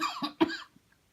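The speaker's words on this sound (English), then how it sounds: "Oh, excuse my coughing." A short, close cough, two or three rough bursts in quick succession, then quiet.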